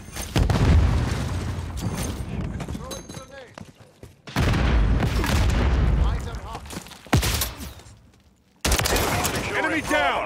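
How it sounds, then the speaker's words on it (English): Video game combat in which a grenade goes off with heavy booming blasts amid rattling gunfire, loud and close in several dense bursts, with radio-style voice callouts mixed in. "Throwing grenade."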